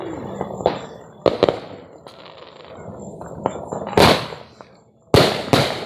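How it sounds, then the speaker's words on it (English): Fireworks exploding at a Fourth of July display, with several sharp, loud bursts and crackling volleys spaced across the stretch, separated by quieter background rumble. "I'm gonna watch some fireworks."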